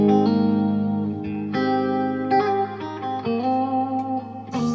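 An electric guitar plays sustained chords and single notes through a long reverb effect, each one trailing off into a long, washy reverb tail that fills the gaps between notes.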